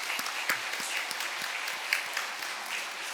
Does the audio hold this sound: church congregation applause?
yes